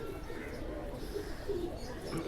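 Amritsari pigeons coo in soft, low, repeated calls, close by over a steady background hum.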